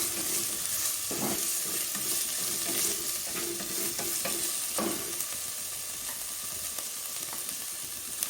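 Ginger and green chili sizzle in a pan under repeated stirring, with a steady frying hiss broken by soft scraping strokes of the spoon, close and moderately quiet, with no talking.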